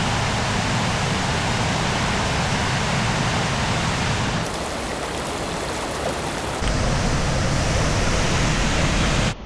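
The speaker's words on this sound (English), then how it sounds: "Now I've reached the 9th and final waterfall on this circuit, Sgwd Gwladys, the Lady Falls." Sgwd Gwladys, the Lady Falls, in the Brecon Beacons: a steady, loud roar of falling water and rushing river fills the whole stretch, briefly thinning to a hiss midway before the full broadband rush returns.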